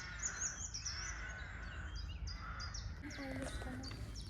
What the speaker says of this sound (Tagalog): Loads of birds.